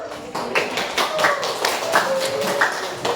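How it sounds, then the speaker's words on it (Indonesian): Scattered clapping from a small group in a classroom, uneven and light, with some faint voices in the room. "Tepuk tangan dulu."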